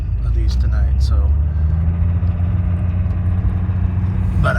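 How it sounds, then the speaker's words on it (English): A 1985 BMW 524td diesel drives steadily, its low engine drone and road rumble loud and continuous from inside the cabin, with a few faint clicks over the hum. "European diesel sound, which is great"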